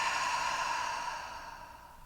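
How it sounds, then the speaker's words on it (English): One deep open-mouth exhale, a breathy airy rush close to the listener that slowly fades over about two seconds, alone and without talk. "Open mouth exhale."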